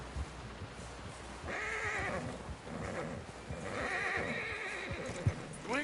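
A horse in a video game whinnies twice in high, shaky neighs over steady clip-clopping hooves, all fairly quiet with no speech.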